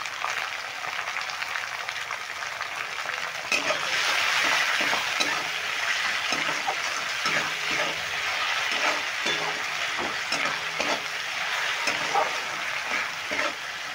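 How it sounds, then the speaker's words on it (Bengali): Peas stirred in a frying pan for a cauliflower roast, with a steady sizzle and repeated scraping strokes of a utensil against the pan, fairly close and continuous throughout. "মটরশুঁটিগুলো দিয়েও আমি নেড়ে নেব"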